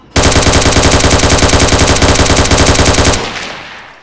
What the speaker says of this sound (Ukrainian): Стріляють по мені, друзі.